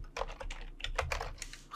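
Rapid, irregular keystrokes on a computer keyboard while entering code for a Smalltalk puzzle program, close and fairly loud, with a brief pause near the start and no talking.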